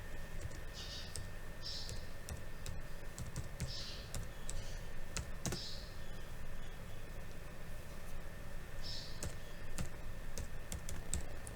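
Steady clatter of someone typing a company name on a computer keyboard during a beginner CAD session, quick key clicks in short bursts over a constant background hiss, no talking.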